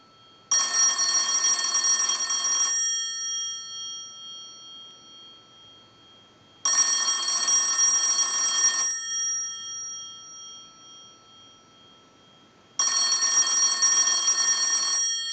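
A Western Electric 684-A bell box with its cover off rings in three loud bursts of about two seconds each, clapper hammering the gongs, separated by roughly four-second silences, with no voices.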